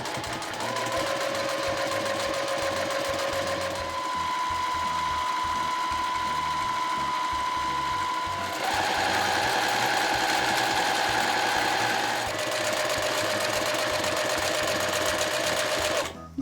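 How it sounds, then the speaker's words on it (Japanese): A sewing machine runs steadily, stitching around the hem of a gathered skirt sewn from Marimekko fabric, its close, continuous whir shifting pitch slightly as the speed changes, with no talk over it. "裾の部分を縫いましょう。"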